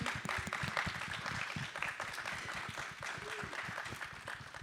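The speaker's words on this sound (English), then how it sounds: "if we could give Chris, Cynthia, Stephania, and Jiarui a round of applause" A panel audience at an indie filmmaking event claps for the panelists, a fairly quiet, continuous patter of many hands that holds steady across the whole stretch without any voices.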